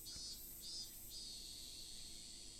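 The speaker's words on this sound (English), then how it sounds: "I can hear the higurashi outside chirping, so it must mean evening cicada" Evening cicadas, the higurashi of the game Higurashi When They Cry, chirp outside on a hot June evening, a steady high-pitched shimmering drone with a few brighter pulses, moderately faint and continuous.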